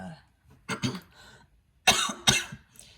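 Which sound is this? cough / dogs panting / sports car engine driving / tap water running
cough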